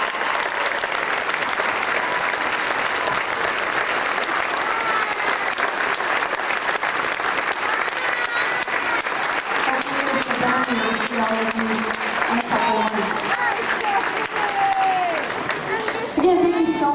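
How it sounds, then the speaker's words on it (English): Sustained audience applause fills a school band concert hall for standing 8th graders, steady dense clapping throughout with some voices and whoops rising near the end. "so we can give you guys a big round of applause."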